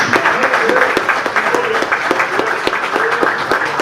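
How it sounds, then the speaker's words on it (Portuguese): A church congregation applauds in praise during a Portuguese sermon, with rhythmic group clapping repeating in steady beats while tonal voices or cheering rise over it. "Quem crê nisso aí, aplauda o nome do Senhor Jesus."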